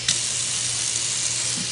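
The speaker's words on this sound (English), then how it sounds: "So I'm going to run water through it." Tap water runs in a steady hiss through a Scentsy sponge, a continuous bright rushing noise with a soft low hum beneath and no pauses.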